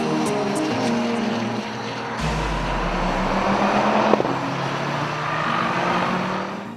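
Lamera Cup endurance race car at Portimao dropping into pit lane at dusk, a near engine note that falls and rumbles low before a sharp bang, then carries on as a steady roar.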